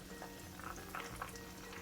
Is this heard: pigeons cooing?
no